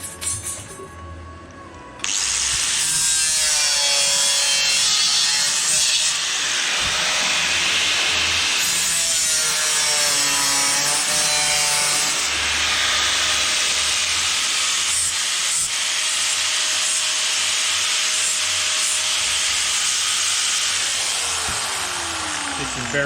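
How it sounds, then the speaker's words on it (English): Angle grinder cutting a rust-repair patch panel on a VW T3 camper, a loud continuous harsh grinding shriek that holds for about twenty seconds after a brief quieter start. "You'd be surprised how quickly metal can heat up once you're cutting it with a grinder."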